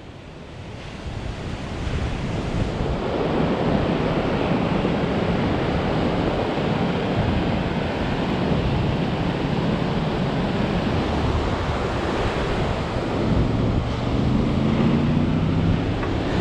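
Sea waves break on the shore with gusting wind, a loud, dense roar of surf and wind noise that swells in over the first seconds and then holds steady, without talking.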